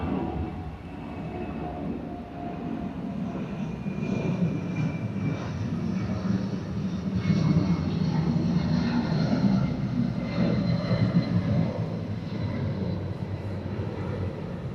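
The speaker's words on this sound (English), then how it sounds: "That's flight 3128. Checking out for New Orleans, 757-200." A Boeing 757-200 at Atlanta airport produces a continuous, rumbling jet engine roar that builds gradually and stays steady and loud throughout, heard alone without voices.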